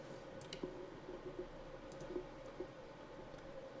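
A computer mouse clicks several times, with soft, faint, scattered clicks over a steady low hum and no voice.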